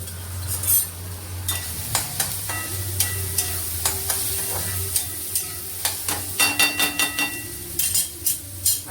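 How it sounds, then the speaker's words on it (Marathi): Oil heating in a kadhai on a home stove, with a steady low sizzle and a run of sharp clicks and taps from a utensil against the pan, getting busier toward the end; no talking. "आता मी इथं कढाई तापायला ठेवली आहे."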